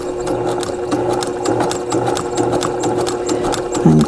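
A sewing machine quilts a small project, its needle running in a fast, steady, close mechanical whir that continues without a break for several seconds, with no voices over it.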